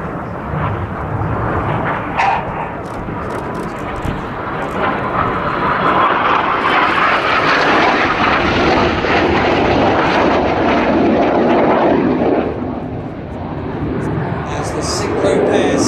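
A pair of Red Arrows jets flies an aerobatic display at the Farnborough airshow, a loud rushing engine roar building and holding before easing off near the end, with a commentator talking over it.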